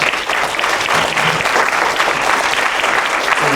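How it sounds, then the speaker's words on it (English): An audience at a panel discussion on K-12 education applauds the panelists, loud and close clapping that runs evenly for a few seconds. "let's give all four of them a round of applause"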